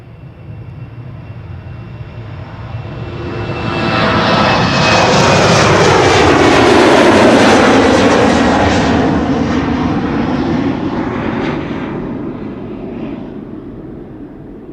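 An airliner on flight 1843 to Nuremberg takes off at Schiphol Airport, its loud jet roar swelling over several seconds, peaking close by, then slowly fading as it climbs away, with no talk.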